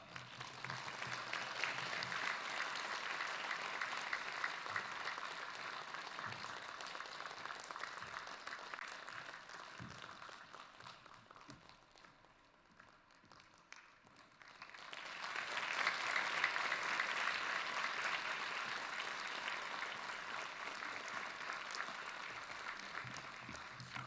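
Church congregation applauding to welcome a guest pastor at a service, a steady wash of clapping that dips briefly in the middle and then swells again, with no talk over it.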